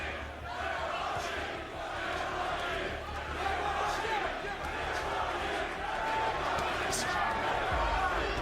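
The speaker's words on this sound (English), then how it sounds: "Crowd chanting Triple G, Triple G." A boxing crowd at a Golovkin fight chants "Triple G" in a steady roaring mass, loud and continuous, with a commentator's voice partly over it.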